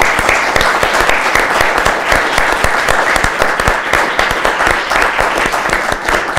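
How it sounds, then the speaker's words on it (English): Steady, dense applause from a crowd, loud and sustained throughout with no pauses. "Can we give an applause to Michael?"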